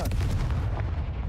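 A Confringo fire spell blasts in the Hogwarts Legacy video game, a loud, heavy boom with a deep low rumble that holds for the whole moment before easing slightly.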